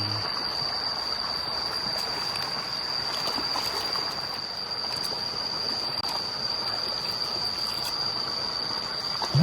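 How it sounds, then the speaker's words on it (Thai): Bamboo shoots being washed in water, a steady flowing trickle and splash continuing throughout at a close, even level, with a faint high whine in the background. "ล้างหน่อไม้ก่อน"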